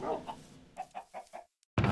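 Chickens in the video game Minecraft cluck in a quick series of short, soft clucks, fairly close, followed by a brief pause.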